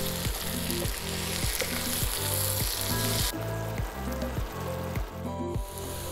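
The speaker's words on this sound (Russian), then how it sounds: "Масло разогрелось, отправляем сюда шампиньоны. И будем их обжаривать до тех пор, пока жидкость не испарится и они не подрумянятся." Button mushrooms fry in hot vegetable oil for Shalyapin shchi, a mushroom soup, with a steady loud sizzle. Regular scraping stir strokes sound against the pan throughout, with no speech.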